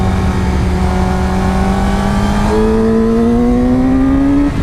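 A 2019 Yamaha R6 motorcycle engine revs loudly and steadily while riding, its pitch climbing smoothly, dipping at a shift, then rising again under constant wind roar.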